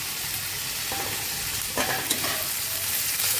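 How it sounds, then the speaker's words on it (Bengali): Gobindobhog rice stirred in a hot frying pan, a steady close sizzle with scraping stir strokes and a brief louder rustle as the grains move, no voices. "আমি গোবিন্দভোগ চাল দিচ্ছি"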